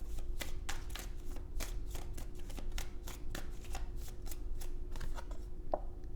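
Tarot cards being shuffled and drawn for a reading, a steady run of close, crisp riffling snaps and slides over a low background hum, with no talking.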